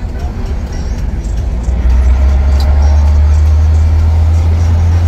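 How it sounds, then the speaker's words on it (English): Heavy road traffic with buses in Lagos State, Nigeria, a loud steady low rumble of engines that swells and stays constant throughout, with no clear voices over it. "Lagos State bus traffic."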